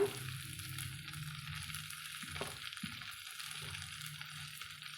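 Grated coconut being stirred into bean sundal in a pan, a faint soft sizzle with light scraping strokes of a spoon at a couple of points, close and quiet.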